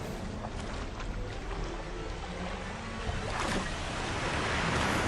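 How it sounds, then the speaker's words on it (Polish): Steady rushing water of a waterfall spilling into a canal in the video game FEAR 3, a continuous broadband wash that swells slightly louder toward the end, with no voices over it. "i wodospadzik wodospad w kanale"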